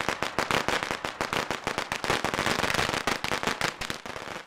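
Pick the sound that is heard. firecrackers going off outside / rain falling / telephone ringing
firecrackers going off outside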